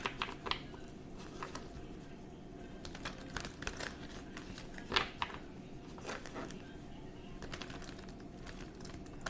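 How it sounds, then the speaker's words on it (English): Tarot cards are shuffled quietly, with soft riffling and crinkling taps and a few sharper flicks at irregular intervals. The sound stays faint and close against a low background hum. "I'm going to just shuffle."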